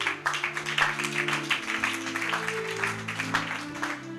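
A church congregation claps in sustained applause at a Bible teaching service, with dense irregular hand claps close by and steady low organ or keyboard tones held underneath throughout.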